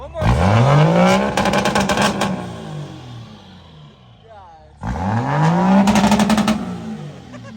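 Turbocharged truck at an Alamo truck show revs hard twice, each pull rising from a deep roar into a loud, crackling climb, with a brief lull between the bursts.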